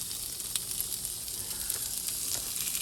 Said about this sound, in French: on va les faire revenir un petit peu à la poêle